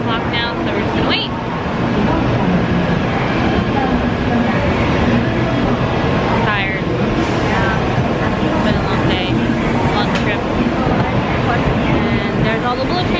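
A Japanese bullet train rolls through a station on a Hakone day trip, giving a steady, loud broadband rumble with brief brake-like squeals, while people talk nearby.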